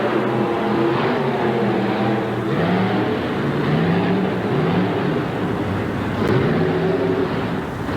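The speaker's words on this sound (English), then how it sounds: "Monster truck race." Monster truck race engines from 1988, Grave Digger lined up against another truck, roaring in a steady, heavy drone that swells and shifts pitch as they rev, dense and continuous throughout with no voices on top.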